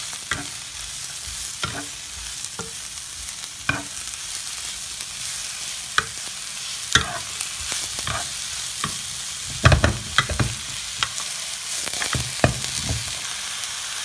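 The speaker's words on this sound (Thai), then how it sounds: "ใส่ลงไปตอนนี้แล้วก็ผัดได้เลยครับ" Shimeji mushrooms and thin slices of pork are stir-fried for curry udon, giving a steady sizzle. A spatula scrapes and clicks against the pan at irregular moments, with no speech.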